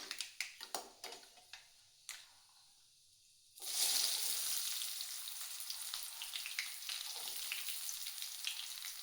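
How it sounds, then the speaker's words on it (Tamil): Hot oil sizzles loudly as chopped onions drop into a pan, after a few sharp taps and a brief pause, then a steady frying hiss continues as they sauté. "அந்த வெங்காயம் நம்ம நறுக்கி வச்சுருக்கோம்ல அதை போட்டு நல்லா வதக்கிடுங்க"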